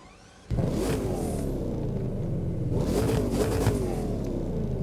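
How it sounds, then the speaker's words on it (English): A car engine in the racing game The Crew 2 starts abruptly after a brief quiet moment, then settles into a loud, rumbling idle with a couple of throaty swells of revving, close and continuous with no talking. "Let's get a little bit of a startup here."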